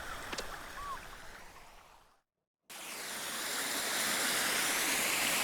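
Flowing water hisses steadily in the VR game Virry Safari. A brief silent gap cuts in partway, then the rushing water returns louder and continuous, with no speech over it.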